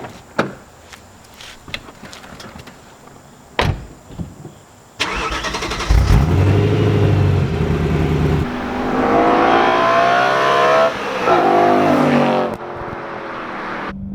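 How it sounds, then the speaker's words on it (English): BMW M3 E92 with a V8 starts up after some clicks and handling noises, then revs and accelerates hard, the engine note climbing and falling through gears, loud and close. "Let's go for a spin in the M3."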